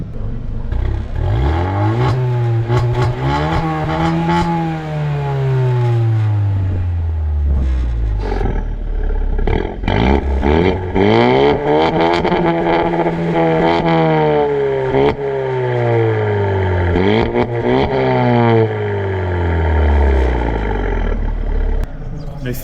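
A Hyundai car's stock exhaust, with its original middle muffler and gasoline particulate filter still fitted, revs up and down in repeated loud, close swells, each rise and fall of the engine note clearly audible.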